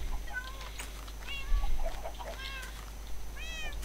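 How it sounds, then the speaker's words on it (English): Several cats meow in short, high calls scattered across a few seconds, fairly close, over a low steady hum. "There's a lot of cats in here!"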